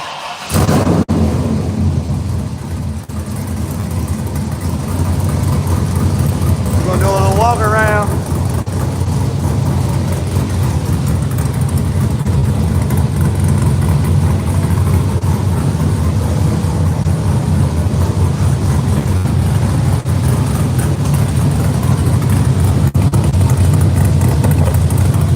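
A 1968 Chevrolet C10 pickup engine cold-starts and then idles steadily, a loud continuous low rumble with a brief rising whine near the start of cranking, running on alone throughout.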